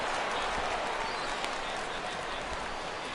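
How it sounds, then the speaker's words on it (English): Stadium crowd noise in the baseball video game MLB The Show 16 rising into an ooh of cheering after a fly ball to right field, a steady broadband roar of many voices throughout. "This crowd oohs and ahs every time this guy hits a fly ball."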